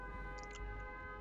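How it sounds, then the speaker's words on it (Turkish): A steady, faint siren drone sounds in the Dead by Daylight video game over a low rumbling background. "Bu siren sesine bayılıyorum ya."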